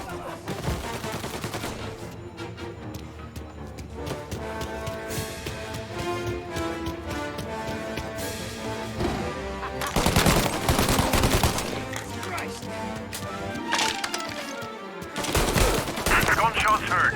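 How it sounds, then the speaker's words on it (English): Gunfire in the video game Mafia Definitive Edition, with dense bursts of automatic shots and sharp single cracks arriving in loud clusters over a game soundtrack, with occasional voices in between. "Gunshots heard."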